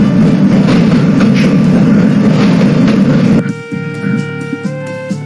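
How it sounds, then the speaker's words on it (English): A train clatters away in the video game The Shivah: a loud, dense rumbling roar holds steady for about three seconds, then cuts off abruptly and leaves quieter ringing tones and a few soft knocks. "The train clattered off into the flickering distance"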